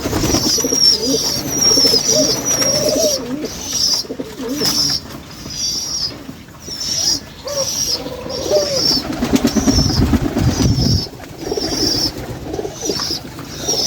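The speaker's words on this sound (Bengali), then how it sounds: "একটা কবুতর ঢুকছে" Pigeons coo repeatedly in soft, throaty bursts, close up inside a pigeon house bedded with sawdust, with faint chirps and fluttering among a steady background hum.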